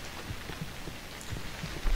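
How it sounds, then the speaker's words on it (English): Rain falls in the horror video game Cry of Fear, a steady soft patter with scattered low thumps underneath, faint and continuous with no voices. "It's raining now."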